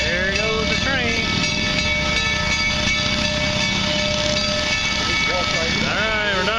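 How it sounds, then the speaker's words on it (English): A train passes steadily, a broad continuous rumble with a high tonal whine, heard outdoors near an old gold mine site in Custer, South Dakota, with faint voices mixed in. "There goes the train."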